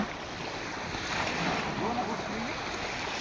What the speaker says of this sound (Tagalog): So kusog jud ang bawod